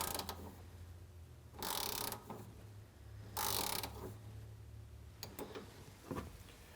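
A Fox shock adjuster on a Yamaha YXZ1000R being turned, quiet mechanical ratcheting clicks in a few bursts with scraping in between, faint and close.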